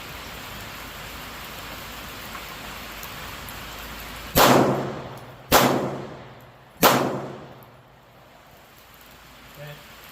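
Three sharp pistol shots from a P320 or P365X fired at targets during outdoor defensive training, spaced about a second apart after a quiet stretch, each loud crack followed by a short decaying ring against steady background noise.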